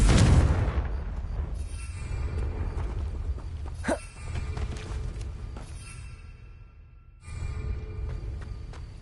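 A Confringo spell explosion goes off in Hogwarts Legacy as a loud low boom at the start, then fades into rumbling ambience with a brief whooshing sweep midway.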